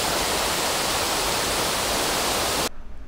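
An artificial waterfall fed by released water pours in a steady, dense rushing roar at a scenic spot in Chaozhou, then cuts off abruptly near the end.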